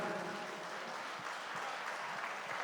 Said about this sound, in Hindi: एक बार तालियां हाथ उठा के बजें।